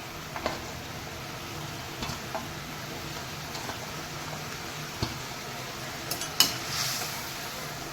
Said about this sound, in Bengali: এই আমাদের ঝোলটা মানে মাছের ঝালের ঝালটা ফুটে গেছে। আমি এবারে মাছগুলো দিয়ে দেবো।